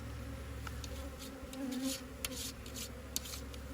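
Steady buzzing of many honey bees close by, a continuous droning hum with a few brief scraping clicks near the end.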